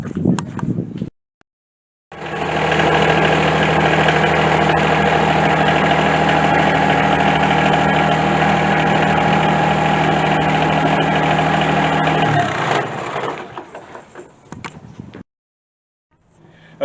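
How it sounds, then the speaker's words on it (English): A tractor engine runs steadily at idle for about ten seconds with a loud low drone and vibration while backing away from a removed front end loader, then drops off and stops. "I'm going to back the tractor out away from the front end loader."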